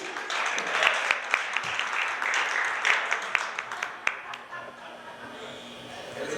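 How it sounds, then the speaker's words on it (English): Comedy club audience applauding, a moderate patter of clapping with a few sharp individual claps standing out, gradually thinning and fading toward the end, with some voices underneath. "Give a round of applause to him."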